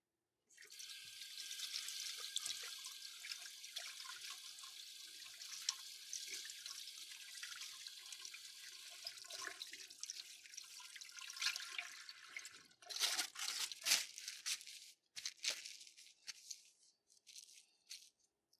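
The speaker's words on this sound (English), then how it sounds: "so now I'm going to wash my hands." Kitchen tap running steadily while hands are washed during scone baking, a continuous hissing water stream that ends with a few louder splashes and clatters at the sink.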